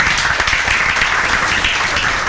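Students in a classroom clap together in a dense, steady burst of applause, close and loud throughout with no pauses.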